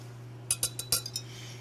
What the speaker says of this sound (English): I'll give my flour and sugar a whisk to combine that.